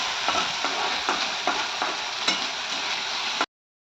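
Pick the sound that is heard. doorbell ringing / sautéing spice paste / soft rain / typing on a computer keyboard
sautéing spice paste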